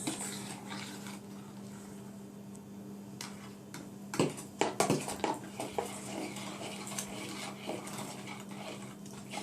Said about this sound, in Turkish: Bak çırpıyorum ben.